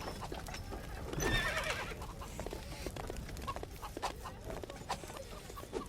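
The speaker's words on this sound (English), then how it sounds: "I was gonna use that horse to make my escape." Horse in the Lego Movie video game neighs loudly near the start, with a clip-clop of hooves running off and fading beneath ongoing game sounds and faint clucking fowl; no speech.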